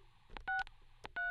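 Telephone keypad DTMF tones dialing *63 on a Cox digital phone line: two clear, evenly spaced beeps, each short and sustained, over faint background hiss.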